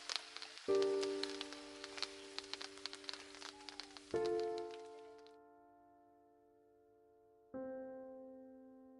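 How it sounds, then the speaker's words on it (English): Rain patters with a crackly, steady hiss in Udawalawe National Park, Sri Lanka, and then stops abruptly. Three loud, ringing struck tones cut in over it and slowly fade. "It's raining now"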